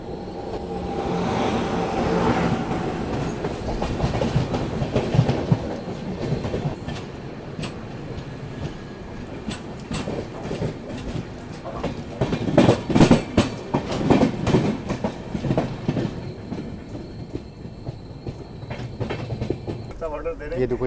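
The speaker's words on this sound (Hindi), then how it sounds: "तो सामने से आ रही है पद्धतिक एक्सप्रेस" An express train passes on an Indian railway line, with a loud, near rumble and a rhythmic clickety-clack of wheels over rail joints that go on for about twenty seconds.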